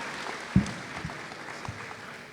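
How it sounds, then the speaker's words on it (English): Brief audience applause for a police department at a community center ribbon-cutting ceremony, a light scattered patter of clapping with a single sharp louder clap near the start. "Let's give the Winston-Salem Police Department a round of applause"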